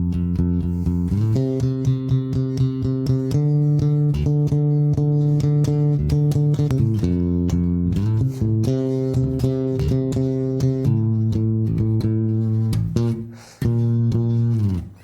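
Bass guitar plays a low, steady line from a song, with a rhythmic groove of held and repeated notes, loud and alone with no talking, before a brief drop near the end.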